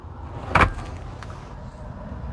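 A glove box opening inside a 2022 Tesla Model Y Long Range: one short, fairly loud click-thunk, then a faint second tick, against a quiet cabin.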